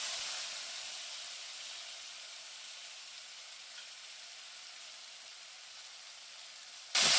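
Tomato puree hitting hot oil with fried cumin and asafoetida in a pan for vegetable khichuri, giving a steady soft sizzling hiss that fades slightly over several seconds, with no talk.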